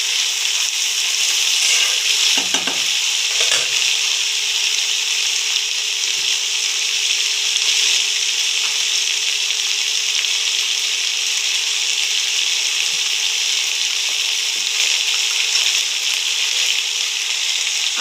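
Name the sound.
frying boiled dried peas for ghugni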